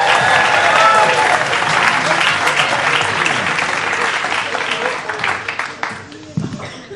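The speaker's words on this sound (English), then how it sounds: "stamp your feet, clap your hands and give it up for Harry Stachini!" A comedy club crowd claps and stamps in sustained, dense applause, loud and close at first and tapering slightly toward the end, with cheering voices mixed in.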